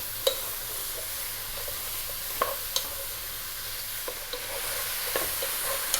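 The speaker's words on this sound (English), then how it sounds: "So just 5 minutes just to seal the meat or the siga." Beef (siga) searing over high heat for an Ethiopian stew, giving a steady close sizzle broken by occasional sharp clicks of a utensil against the pan.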